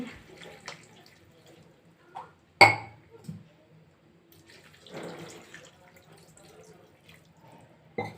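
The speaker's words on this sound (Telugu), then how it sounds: "ఇప్పుడు ఇందులో 2 గ్లాసులు వాటర్ వేసుకుంటున్నానండి" Two glasses of water are poured into a pot of flat bean curry with tomato and potato, making a brief splash and steady pouring close by, with a faint clink.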